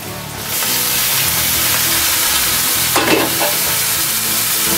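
Chopped onions, browned, and tomato fry loudly in a pan for paneer bhurji, with a steady dense sizzle and a burst of stirring scrapes near the middle; no talking.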